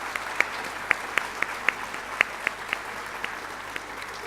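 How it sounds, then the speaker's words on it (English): An audience applauds after an artistic presentation representing Bolivia's nine cities at the opening ceremony of an international convention for English teachers, a thin scattering of distinct claps that thins out toward the end. "Let's give them a big applause again."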